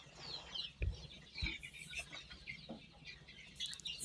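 Young chicks, about twenty days old, in a 1000-bird batch on a small local poultry farm give clucking and chirping calls throughout, with a couple of sharp low knocks early on.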